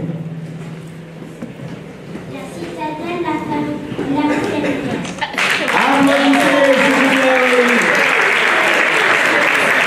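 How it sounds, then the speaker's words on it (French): A crowd at a children's match in Paris breaks into loud, sustained applause that swells midway, with voices and cheering mixed in throughout. "Applaudissements pour les Grenadiers."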